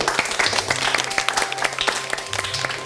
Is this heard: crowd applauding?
yes